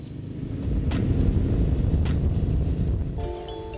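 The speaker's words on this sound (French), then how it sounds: "le boss quitte le stade satisfait sur sa moto grand luxe" A luxury motorcycle pulls away from a Thai football stadium, its engine rumble swelling quickly, holding steady, then easing off as it moves away, with a few short tones at the end.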